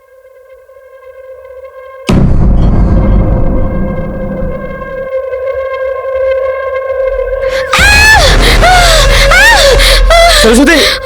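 A person screams on a crime drama scene, a loud sustained tonal cry with a harsh noisy start, then a wavering, quavering shriek that stays loud to the end.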